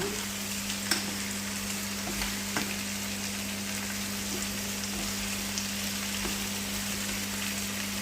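Fish and vegetables roast in a pan with a steady, soft sizzle, accompanied by a faint electrical hum and a few light clinks, with no talking.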